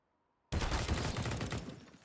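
A sudden close burst of sustained automatic gunfire in a Counter-Strike duel on the Nuke map, starting after half a second of near silence and continuing dense and loud to the end.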